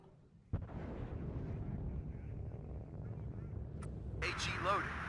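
Artillery guns firing in the WARNO military strategy video game, a sharp heavy boom followed by rumbling, with a later blast and crackling burst over a low continuous battle din.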